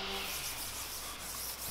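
Paste wax is rubbed by hand onto a SawStop table saw's metal surfaces and plastic parts, giving a soft, continuous close-up scrubbing swish.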